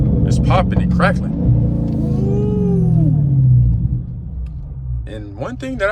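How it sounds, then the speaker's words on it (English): A Dodge Scat Pack with mid-muffler delete rumbles loudly up close, its exhaust note swelling and fading with bursts of popping and crackling, while someone speaks over it. "It's popping and crackling."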